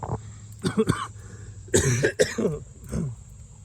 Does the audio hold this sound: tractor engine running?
no